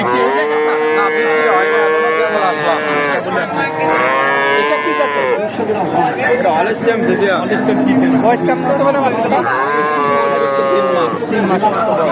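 Cattle at a livestock market low and moo repeatedly, loud and close, with long drawn-out calls over crowd chatter and people talking nearby.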